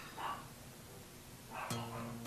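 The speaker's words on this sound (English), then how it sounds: "Sorry if you hear my dogs." A couple of short dog barks, fairly faint and somewhat distant, separated by a quiet pause.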